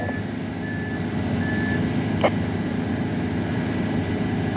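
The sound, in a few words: cement truck reversing beeps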